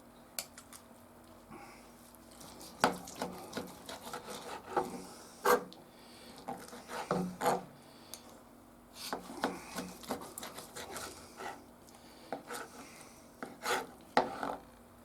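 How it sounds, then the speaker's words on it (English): Knife slicing through smoked meat from a UDS drum smoker, cut against the grain in a run of short, quiet rasping strokes over faint background hum. "So now I'm slicing against the grain because I want to show you the difference of what the two look like"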